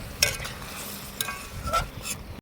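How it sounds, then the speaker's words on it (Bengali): Eggplant stir-fried in a thick spice masala, with a steady sizzle and several scraping stirs of a spatula in the pan, close and fairly loud. "এখন আমি বেগুন দিয়ে নিচ্ছি। বেগুনটাকে আমি এই মশলার মধ্যে কষিয়ে নেব।"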